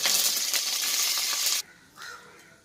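Mustard seeds and curry leaves sizzling in sesame oil for snake gourd poriyal, a loud bright hiss and crackle that cuts off abruptly, followed by a softer brief sizzle.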